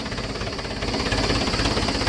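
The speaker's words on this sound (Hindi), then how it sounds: "ये देखो भाई फुल लीवर में ट्रैक्टर ने दम नहीं तोड़ा" A Mahindra 575DI tractor engine works a 7-foot Shaktiman rotavator at full lever, giving a steady, loud, pulsing low rumble with a dense rhythmic chug that holds throughout, close to the machine and without speech.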